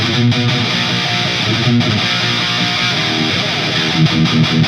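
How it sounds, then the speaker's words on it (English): Heavily processed electric guitar through a chorus pedal plays a sustained, shimmering chord pattern with a thick, wavering modulation effect, loud and continuous. "If we turn on the chorus,"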